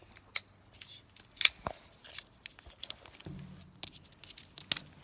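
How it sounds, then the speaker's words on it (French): Scissors cut close up in a quiet room, giving several sharp, irregular snips and crisp rustles with short pauses between them. "Ces ciseaux-là ne marchent pas vraiment bien."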